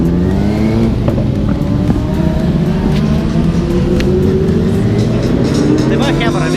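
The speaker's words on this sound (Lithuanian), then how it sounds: "sportiniai motociklai yra užkūrinėjami" Sport motorcycle engines start up and idle at a race track during a track day, loud and continuous, with a steady low engine drone and several revving tones layered over one another.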